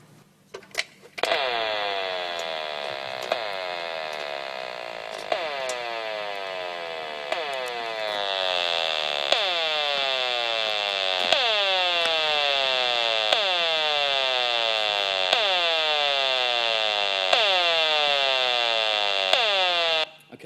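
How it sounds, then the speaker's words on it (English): Pulsing electronic tone from a gigahertz HF35C microwave meter registering smart meter radiation, a steady loud buzzing drone with repeating downward-sweeping chirps roughly every second, continuing without talk. "my gigahertz HF35C microwave meter showing 1 pulse of microwave radiation."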